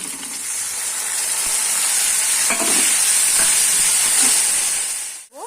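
Ginger, garlic, cumin and chilli powder fry with tomato and onion in a hot pan, a loud, steady sizzle and hiss with a few soft stirring scrapes, ending in a brief clatter.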